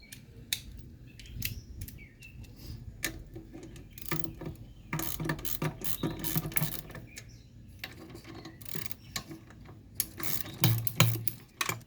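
A ratchet clicks in quick irregular bursts while turning a bolt on a car, with close metallic ticking and small handling knocks, getting louder toward the end.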